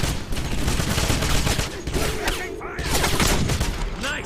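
Suppressing gunfire in the 2009 Wolfenstein game keeps up loud, dense rattling bursts throughout with explosive thumps and shouted voices mixed in.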